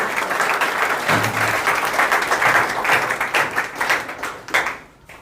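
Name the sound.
audience applause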